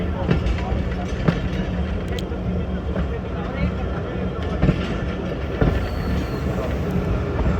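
Passenger train halted on the loop line at Eminabad in Pakistan, a low rumbling interior hum with occasional clanks and knocks, while people talk over it.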